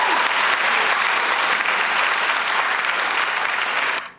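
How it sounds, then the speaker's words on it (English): Audience applause for a shout-out during a podcast: dense, steady clapping that stays loud and even for about four seconds, then cuts off abruptly. "let's definitely give them another round of applause there"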